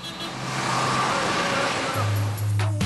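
A car pulling away and driving off from a clinic's back door; a moderate engine rumble that swells, dips briefly, then rises again toward the end, heard at middle distance with no voices.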